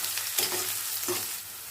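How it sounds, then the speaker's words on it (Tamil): Onions sautéing in hot oil with fennel seeds for chicken gravy, a constant close sizzle broken by two quick stirring scrapes. "வெங்காயம் சேர்த்து நல்லா வதக்கிக்கலாங்க."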